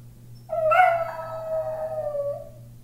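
A single dog lets out one drawn-out howl up close, rising sharply and then sliding slowly down over about two seconds against a low steady hum.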